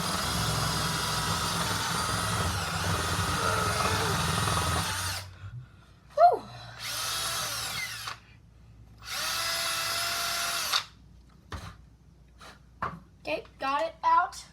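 Power drill boring a hole in wood, a long steady whir followed by two separate shorter bursts and a few quick blips, close and fairly loud.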